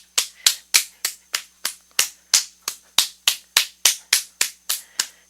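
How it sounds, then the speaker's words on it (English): A steady run of about sixteen sharp, close slaps as a hand claps on the foot in a yoga session, quick and regular, each smack crisp and isolated in a quiet room. "Little clap on your feet."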